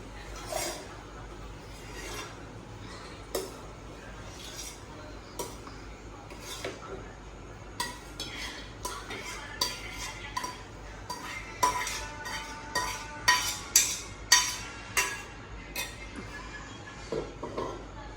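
A steel bowl and utensils clink and scrape as cooked bean curry is spooned back into the bowl in a home kitchen. The clinks start sparse and grow into a quick run of bright, close knocks toward the end.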